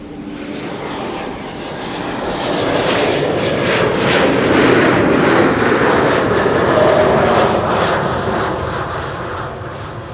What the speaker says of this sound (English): This is German Airways flight for KLM arriving from Basel.